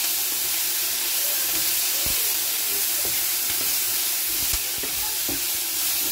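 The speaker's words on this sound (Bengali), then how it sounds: "ওই নিম পাতার মধ্যে দিয়ে দেবো এই আলুগুলো। এটা ভেজে নেব।" Potatoes and neem leaves fry in a hot pan with a steady, close sizzle and hiss, broken by a few soft clicks and scrapes from stirring.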